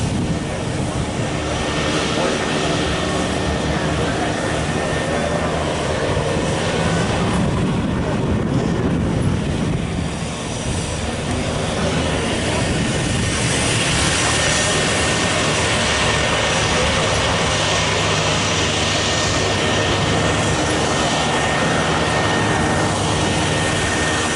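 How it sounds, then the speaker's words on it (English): A P-51D Mustang propeller plane drones loudly and steadily overhead at an airshow, its engine roar filling the scene while voices talk faintly underneath. "Here's another P-51D Mustang."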